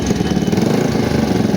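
An unusual motorcycle engine runs loud and close in a rapid, even chugging pulse, a short burst of steady mid-pitched engine rumble.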